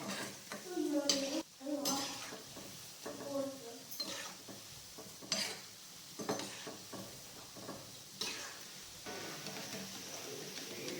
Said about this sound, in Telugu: ఇలా గోల్డెన్ కలర్ వచ్చేంత వరకు వీటిని బాగా వేయించుకోవాలి